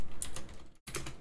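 Quick keystrokes on a computer keyboard tap out a short, close run of clicks with a brief pause midway and no speech.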